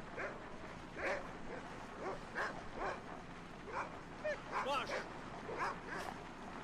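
Sled dogs in Cabela's Alaskan Adventures yip and bark repeatedly in short, uneven bursts over about six seconds. The barks sit on top of a constant bed of game noise.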